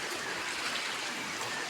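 Mountain river water of the Phalja Khola in Nepal rushes steadily in a broad, continuous hiss, close and even throughout with no pauses or talk.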